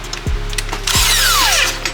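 A power tool works a bolt on the rear stabilizer bar of a Honda Pilot, giving a few loud close bursts with a whining pitch that falls away.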